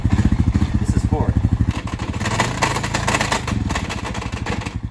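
Honda 420 ATV engine running in fourth gear, a loud, steady rapid engine pulse with rattling clatter, changing pitch midway as it labors, with a voice talking over it.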